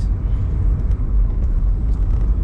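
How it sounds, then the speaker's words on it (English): Town road traffic of trucks and cars in Eldoret, Kenya, rolls past as a loud, steady rumble of engines and tyres that fills the whole moment without a break. "The trucks and the cars."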